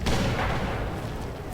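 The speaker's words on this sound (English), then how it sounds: "Couple grenades going out from Kaiser Soze." Grenade explosions in a multiplayer shooter match: a thick, rumbling burst of blasts and gunfire at the start that slowly fades into continuing battle noise.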